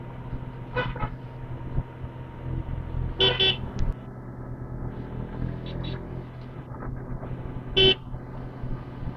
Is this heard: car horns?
yes